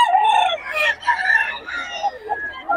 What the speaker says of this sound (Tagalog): Naka-display pa rin yung mga manok.